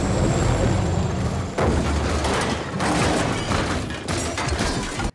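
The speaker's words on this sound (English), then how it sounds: "They engage in the cannon now." Heavy booming blasts and rumbling impacts pile up in a loud, chaotic burst of movie cannon fire and explosions in an action scene.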